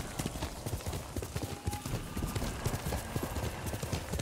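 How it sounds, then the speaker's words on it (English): A horse gallops in the video game Ghost of Tsushima, a fast, steady clip-clop of hooves that runs throughout at moderate level, with soft game ambience behind it and no talking. "You're a good horse"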